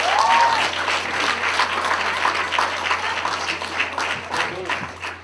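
A crowd at a graduation celebration gives sustained, dense applause, with cheering and voices mixed through the clapping.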